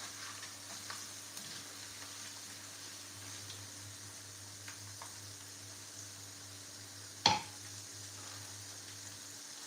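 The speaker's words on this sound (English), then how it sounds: "So I have that onions and ginger frying there" Onions and ginger frying in palm oil in a home kitchen give a low, steady sizzle that runs the whole time, with a single sharp clatter partway through.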